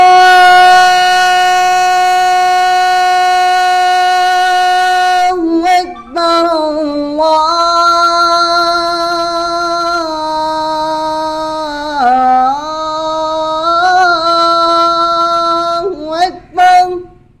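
A single voice chants the Islamic call to prayer (azan) in long sustained melodic phrases, loud and slightly electronic in tone, with brief pauses between lines.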